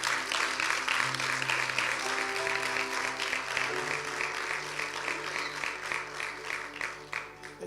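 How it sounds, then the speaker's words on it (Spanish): A church congregation applauds during a worship service, steady rhythmic clapping from many hands that gradually thins, heard at moderate distance over a sustained keyboard or music backdrop. "Den un aplauso al Señor."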